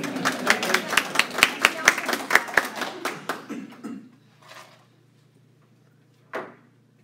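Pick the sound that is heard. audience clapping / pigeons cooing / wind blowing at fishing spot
audience clapping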